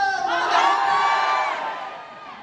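A conference crowd shouts and cheers together in one loud, sustained roar that swells and then fades over a couple of seconds.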